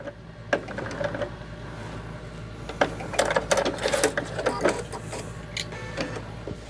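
Sewing machine stitching binding onto a quilt edge, running in short bursts of rapid needle clatter with clicks and pauses between, close and moderately loud, no speech.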